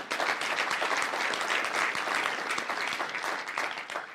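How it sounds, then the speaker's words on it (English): Conference audience giving sustained, even applause, many hands clapping densely and fairly loudly for the whole stretch without speech. "so big round of applause for them."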